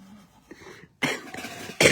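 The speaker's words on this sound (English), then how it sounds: "can you stop coughing?" A person coughs indoors in a couple of harsh, throaty bursts, separated by a brief silence, with a faint murmur before them.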